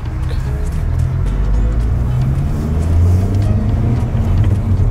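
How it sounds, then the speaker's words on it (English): A 2018 Honda Civic Type R with a newly installed short shifter drives on a test run, giving a steady, loud low-frequency engine and road rumble throughout with no talking. "So this is our first test drive with the actual short shifter installed"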